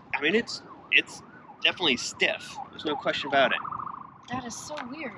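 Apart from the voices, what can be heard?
sirens in city background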